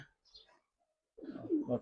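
Giribaz pigeons coo in a brief, close, low throaty burst after a near-silent stretch broken only by faint chirps.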